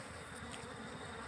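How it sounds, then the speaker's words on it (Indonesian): Asian honey bees (Apis cerana) at a hive box give off a faint, steady buzzing drone of many wings fanning together, with no talking. "Biasanya ada koloni lebah yang mengibaskan sayapnya"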